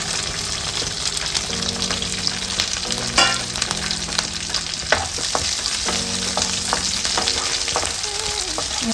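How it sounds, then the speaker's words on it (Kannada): Curry leaves, onion and chili sizzle and crackle in hot oil, a steady close frying hiss with scattered pops and stirring scrapes throughout, low tonal hum underneath, no voices. "ಇವಾಗ ನಾನು ಕರಿಬೇವು ಹಾಕ್ತಾಯಿದ್ದೀನಿ, ಆಮೇಲೆ ಆನಿಯನ್ ಹಾಕ್ತಾಯಿದ್ದೀನಿ, ಚಿಲ್ಲಿ ಹಾಕ್ತಾಯಿದ್ದೀನಿ"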